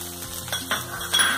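Cabbage, carrot, beans and green peas frying in a pan, a close, soft sizzle with brief stirring scrapes and a few clinks over about a second and a half.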